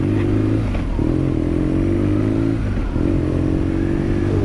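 A custom-built motorcycle runs loudly and close, its engine droning steadily with slight dips and swells in pitch as it is ridden.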